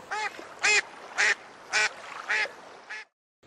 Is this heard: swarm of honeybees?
no